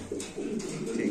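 Pigeons coo in low, throaty pulses at a Lahori pigeon farm, close and steady across the short stretch with a few soft bursts of rustling.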